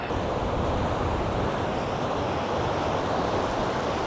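Water pours steadily over a river weir in a park in Hawick, a loud, continuous broadband rush with wind buffeting the microphone and no voices.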